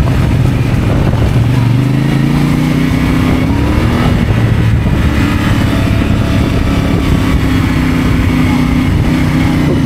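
A motorcycle engine revs loudly and close by. Its drone climbs in pitch over the first few seconds, then holds a steady, rough roar to the end, with voices faintly underneath.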